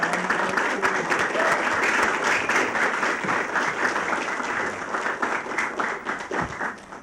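A crowd claps steadily in sustained, dense applause that gradually thins out toward the end.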